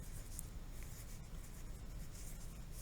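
A pen scratches across paper in a quiet room, writing out a short grammar sentence. The strokes are soft, close and continuous, and there are no voices.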